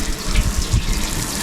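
Water gushes from a rustic off-grid solar shower outdoors, a steady broadband rush with low splashing thumps as it hits and falls, close and continuous with no talk.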